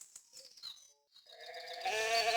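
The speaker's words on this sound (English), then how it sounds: "One Eye, do you want to take care of the goat and go to sleep while you're doing it?" A goat bleats in a recorded children's story, a few short wavering cries followed by a louder, denser stretch of sound at the end, with no speech over it.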